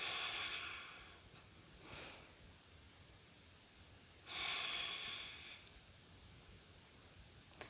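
Slow, deep yoga breathing, two long airy breaths several seconds apart, each swelling then fading, close and soft against quiet room hiss.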